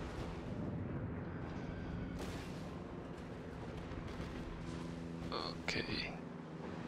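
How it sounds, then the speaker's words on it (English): Secondary guns fire on a World of Warships USS St. Louis: a steady rumbling barrage of muffled booms with a couple of sharper pops near the end, under what sounds like a voice. "And there go the secondary guns."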